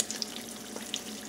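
Sausage fries in a pan for a Filipino breakfast, a quiet, close crackle with scattered small pops over a faint steady sizzle.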